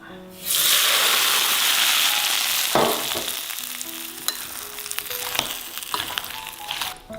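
Hot oil poured over a fish sambal made with cherry tomatoes, lime leaves, sugar, salt and lemon juice bursts into a loud, sudden sizzle that hisses strongly for a couple of seconds, then settles into softer crackling and popping.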